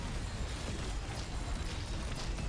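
Explosions in the video game Yet Another Zombie Survivors, a dense, continuous barrage of booming blasts and bursts heavy in the low end, sustained at steady loudness without pause.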